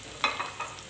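Ginger sautéing in a pan for chicken adobo, a brief soft sizzle with a stirring scrape near the start, short and quiet.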